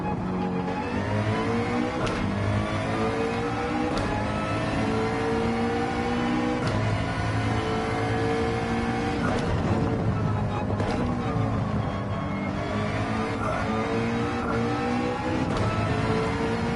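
Race car engine from a McLaren in Gran Turismo 7 on the Nürburgring Nordschleife, droning steadily and rising in pitch through repeated gear changes, loud and continuous with brief shift breaks.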